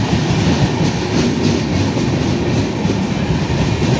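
Coaches of a Duronto express train roll through Brahmapur railway station, a loud, close, continuous rumble with a steady rhythmic clatter of wheels over rail joints and no voices.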